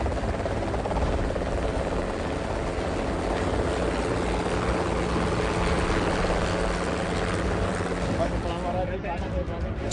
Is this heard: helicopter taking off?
yes